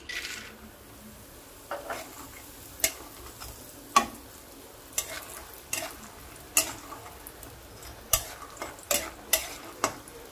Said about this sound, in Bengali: এই তেলেই আমি ছোট বাটির 1 বাটি বড়ি ভেজে নেব।